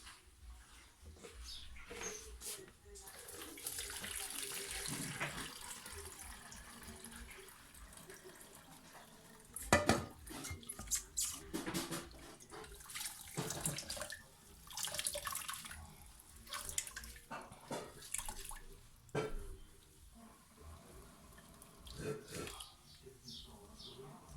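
Homemade coconut milk made from grated coconut is poured and strained through a large sieve into a clean container, giving an uneven liquid splashing and trickling with sharper bursts, under ongoing talk.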